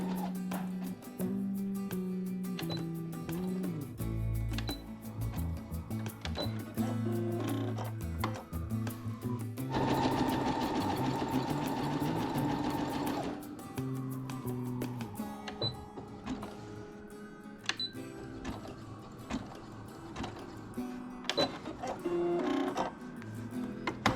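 Brother SE2000 sewing machine stitching repairs on ripped denim jeans, a close mechanical whirring burst of rapid needle strokes in the middle, framed by quieter handling clicks and machine ticks before and after.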